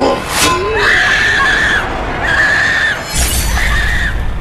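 A woman screams loudly and close, a long shrill cry broken into three drawn-out bursts, with a sharp crash near the start and another bright burst partway through.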